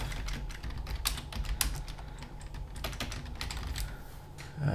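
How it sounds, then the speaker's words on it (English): Fast typing on a computer keyboard, a steady stream of crisp close key clicks in uneven bursts, with no talk over it. "start typing"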